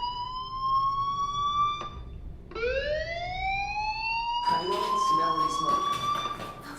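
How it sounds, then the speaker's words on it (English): A fire alarm rings in the video game Life is Strange: rising electronic wailing tones that cut off and restart, later joined by faint background sounds. "Hey, do you hear that fire alarm?"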